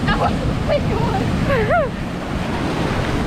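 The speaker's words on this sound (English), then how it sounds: "Whoa! These waves are coming in." Ocean surf rolls onto a secluded beach in Phuket, Thailand, a constant loud wash of waves and wind buffeting the microphone, with a voice briefly exclaiming over the roar.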